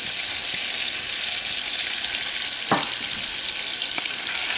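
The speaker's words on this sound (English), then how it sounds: "I will stir." Welsh rabbit cheese sauce stirred in a pan over low heat, a constant soft sizzle with a couple of brief scraping knocks of the utensil.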